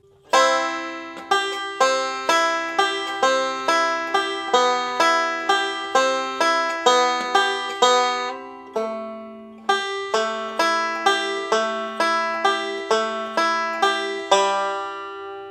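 A banjo plays bright, quick repeating forward-roll picking patterns in a steady rhythm, pausing briefly before continuing, with no speech.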